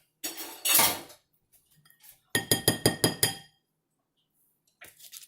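Dishes and a plate scraper dropped into a kitchen sink: bursts of clattering, then a quick run of about six sharp clinks of crockery and cutlery, and a few faint knocks at the end.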